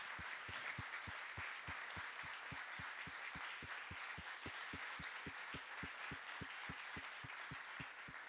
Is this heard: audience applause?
yes